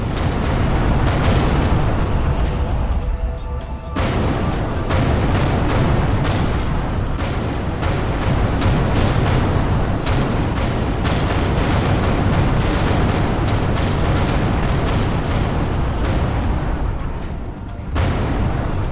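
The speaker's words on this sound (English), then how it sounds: "Explosion imminent." Explosions and heavy blasts from the space combat game Everspace 2 pound continuously, a dense, loud barrage of booms and bursts with little pause.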